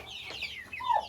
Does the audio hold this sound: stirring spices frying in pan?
no